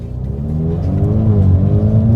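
A four-cylinder Ford Mustang engine revs up in its exhaust mode with a rising, throaty exhaust note, loud and close, building steadily.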